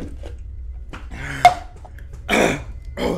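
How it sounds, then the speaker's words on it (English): A few short, raspy coughs and throat-clearing sounds, close by, with quiet pauses between them, from a person whose throat is burning after eating habanero chili. "No, don't cough."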